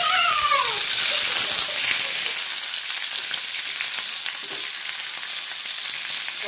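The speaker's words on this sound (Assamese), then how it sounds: "মই প্ৰথমতে তেল নিদিয়াকৈ ভাজি ল'লোঁ।" Pork fries in its own rendered fat with no added oil, a loud, steady sizzle filling the whole clip, with a brief voice near the start and faint stirring sounds underneath.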